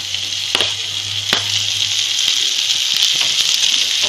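Tomato and chillies fry with onion in hot oil for a dried Bombay duck masala, giving a loud, continuous close sizzle with a few sharp ticks and pops and no talking.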